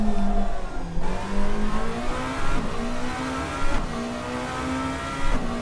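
A race car engine in the video game Rennsport revs and climbs through the gears, with a steady rising whine broken by shift dips and a faint tire squeal, loud and continuous.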